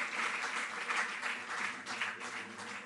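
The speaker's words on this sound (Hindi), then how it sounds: "जोरदार तालियां" Applause from an audience at an award ceremony, steady and dense for the whole stretch with no breaks, fairly close and moderately loud.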